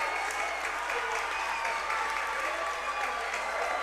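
Continuous applause and cheering from a hometown crowd at a 22U national championship baseball game after a title-winning catch, steady and dense throughout, with a commentator speaking over it.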